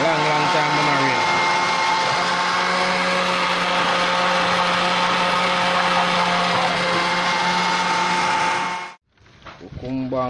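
A blender whirs loudly and continuously while blending cucumber and pumpkin, a close, dense motor roar that cuts off abruptly near the end, after which a voice is heard.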